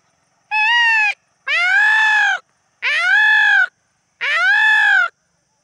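A man imitates a peacock call: four loud, drawn-out nasal cries, each about a second long, separated by short silences.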